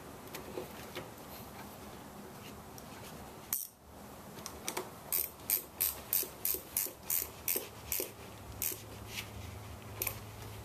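A ratchet tightens the negative battery terminal on a Subaru, heard as a quick run of sharp, evenly spaced clicks after a metallic clunk, up close with no talking.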